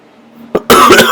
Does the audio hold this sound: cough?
yes